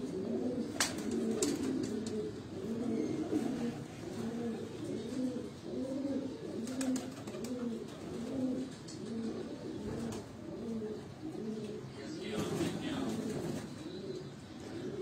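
Pigeons coo in a steady, repeating rhythm of soft low calls throughout, several birds overlapping at close range, with brief faint chirps and background noise.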